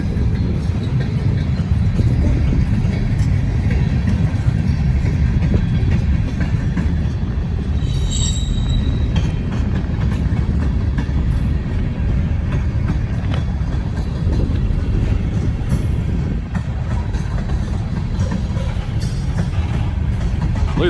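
A freight train of Boston and Maine covered hoppers and tank cars rolls past close by, a loud continuous rumble of wheels with intermittent metallic squeals.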